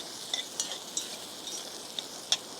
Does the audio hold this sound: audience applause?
no